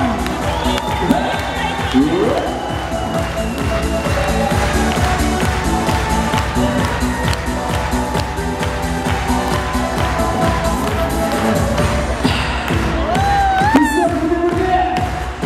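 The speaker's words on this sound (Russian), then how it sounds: "Аплодисменты нашим детям" An audience cheers and applauds kindergarten children performing a dance song on stage. The crowd makes a continuous, lively roar of cheering and clapping, with music and a few voices underneath.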